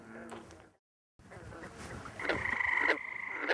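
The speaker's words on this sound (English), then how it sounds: "I can hear the frogs all around me." Frogs croak from all around, short rasping calls and a brief higher trill rising out of quiet outdoor background over a few seconds.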